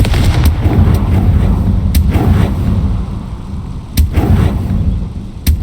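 A Confringo blast spell is cast in the Hogwarts Legacy video game, producing several loud, sharp explosive booms spaced across a steady rumbling background.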